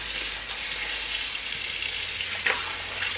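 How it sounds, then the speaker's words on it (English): Cool tap water runs steadily onto a microfiber cloth, a broad close hiss that stays constant throughout with a brief splash near the end and no voices. "I'm going to get it wet with cool water."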